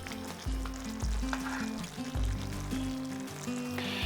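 Mustard and poppy seed paste is mixed into pumpkin cooking with tomato in a pan, heard as a continuous close sizzle under repeated scraping stir strokes, with no talking.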